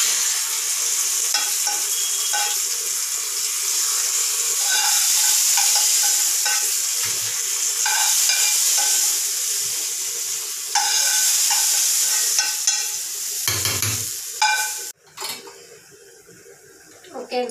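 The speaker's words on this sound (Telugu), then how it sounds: "చూసారా తాలింపు అయిపోయింది. ఇంకా చట్నీలోకి వేసేసుకోవాలి." Hot tempering with asafoetida stirred into a chutney, with a loud bright crackling sizzle that runs steadily, then a few clanks of a pan and spoon before the frying drops away near the end.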